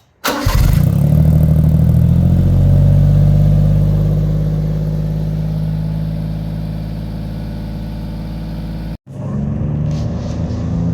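A Honda kei truck's small engine starts and idles with a steady mid-pitched drone, loud and close, then briefly cuts out and resumes as it begins to pull away; no talking.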